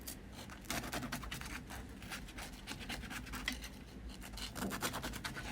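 A knife saws through a soft, spongy homemade round loaf, giving a continuous close rasping scrape with a steady back-and-forth rhythm.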